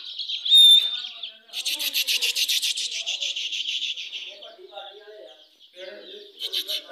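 Baby chicks chirp in high, rapid bursts, close and fairly loud, with short pauses between flurries and a voice talking faintly underneath.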